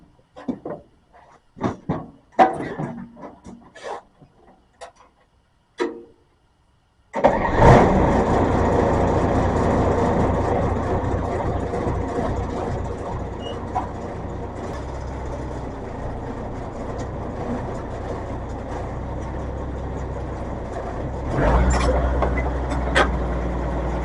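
A bulldozer, just repaired after a steering fault, cranks and fires: a few sharp clanks and clicks, then the diesel catches and settles into a loud, steady rumble that swells louder near the end.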